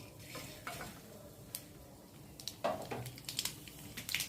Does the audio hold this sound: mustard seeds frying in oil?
yes